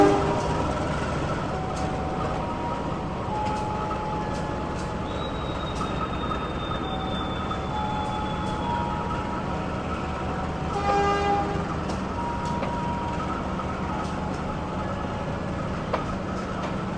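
Matarmaja passenger train at Pasar Senen station preparing to depart, a steady low rumble of idling locomotive with a long faint horn tone and brief clanking, heard from the platform.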